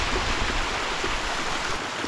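Cold spring water gushes steadily from a natural outflow in an old mining district, a loud, close, continuous rushing splash with no talk.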